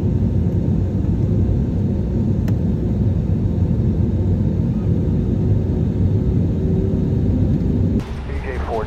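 Airliner takeoff roll in Microsoft Flight Simulator 2020 during a heavy crosswind, a loud, steady low engine roar and rumble holding for several seconds, then dropping slightly with a brief sweep at the end.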